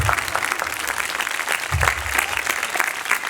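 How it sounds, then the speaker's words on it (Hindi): An audience claps steadily during a Hindi-Urdu Bible sermon, a dense continuous patter of many hands in a hall, fairly loud and close, with no speech over it. "तालियां नहीं जा रहे, जरा क्लैपिंग करो।"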